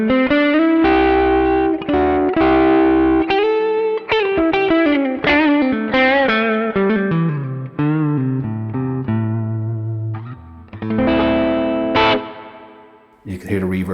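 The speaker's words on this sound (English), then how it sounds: "So that's the Kinky Boost off the HX effects, and it takes it really well." Electric guitar played through a Hotone British Invasion amp with the Kinky Boost from HX effects and reverb in the effects loop rings out as loud, bright chords and melodic picked notes that sustain and fade, with no talking.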